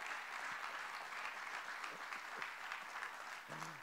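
A church congregation applauding during a Sunday service: steady, distant clapping from a crowd that keeps going throughout, faint and even, with a brief voice surfacing near the end.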